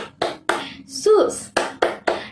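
Children clap their hands in a Sunday school clap chant at an HKBP church service: a handful of sharp, evenly spaced claps with a brief sung voice in the middle.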